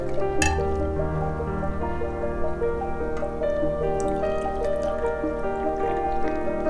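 Warm, creamy Mexican hot chocolate soup is poured into small cups, with gentle dripping and trickling beneath soft background music.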